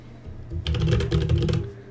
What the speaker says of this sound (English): Here I'm typing my name.